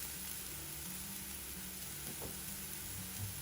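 Bitter gourd pieces frying with chili powder in a pan give off a steady, even sizzle throughout, with a faint stirring scrape partway through.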